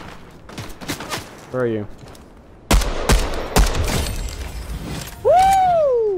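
Sharp, separate gunshots in a battle royale shooter crack out one at a time, loud and close, with a person talking between them and a short excited voice at the end.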